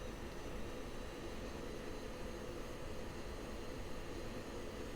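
Aircraft in the Falcon BMS 4.37 flight simulator coming in low over the runway threshold on a straight-in landing, a steady broadband engine and wind roar that holds constant and moderately quiet throughout, with no talking.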